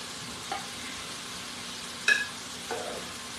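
Ribeye drippings sizzling in a frying pan, a continuous close hiss with a few louder pops and spatters, no voices.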